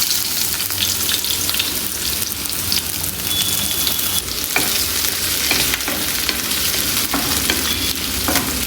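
Onions sautéing in coconut oil over a medium flame, a loud, dense, continuous sizzle like rain on a surface, with occasional spatula taps and scrapes and no talking.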